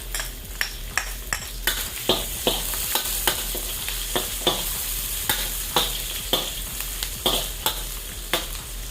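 Ginger sizzling in a hot pan while being stirred, a continuous frying hiss broken by regular sharp scrapes of the utensil against the pan, close and fairly loud.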